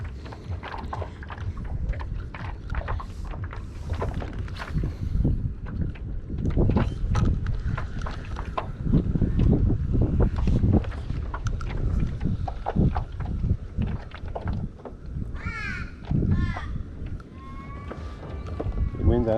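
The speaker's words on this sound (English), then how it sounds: "The wind has come up a little bit, which is fine" Wind blowing over open water around a Hobie Lynx kayak during a fishing trip, a steady buffeting rush with gusts against the microphone, splashes and a bird call, with talk mixed in.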